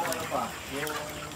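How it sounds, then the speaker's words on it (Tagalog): Dekalb brown chickens in a free-range flock cluck softly and briefly, with a faint murmur that may be a voice in the background. "Gaganda po ng mga manok"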